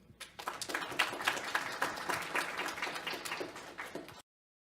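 An audience applauds to welcome a speaker at a tech and youth impact event, with many hands clapping in a dense patter that rises quickly, holds for about four seconds, then stops abruptly.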